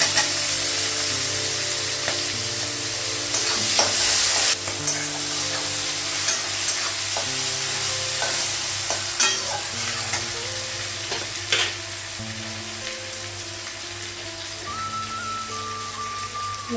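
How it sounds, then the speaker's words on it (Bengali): Onions and chillies fry in a pan with a constant close sizzle, a steady hum beneath and scattered scrapes and taps of stirring, and no talk. "পেঁয়াজটা তাড়াতাড়ি ভাজা হবে।"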